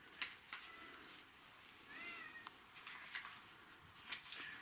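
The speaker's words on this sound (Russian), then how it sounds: "В подвале сидят кошки." Cats meow in a cellar where potatoes are stored, several faint distant mews scattered over a few seconds against a quiet, noisy room background.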